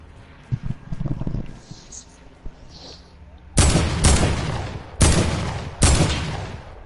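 Bursts of gunfire aimed at an X-Wing in the video game Fortnite: four loud, sharp volleys in quick succession after quieter game sounds and some speech-like noise.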